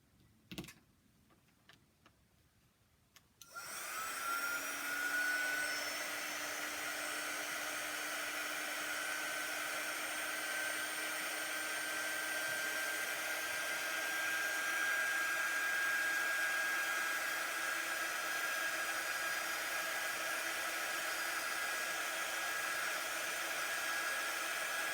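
A hair dryer switches on after a few seconds of near-quiet with a couple of clicks, then blows steadily and loudly with a constant whirring hiss for the rest of the stretch, with no talk.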